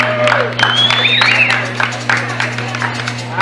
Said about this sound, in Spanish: Eso es aplauso para la Miguel.